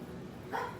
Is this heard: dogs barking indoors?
yes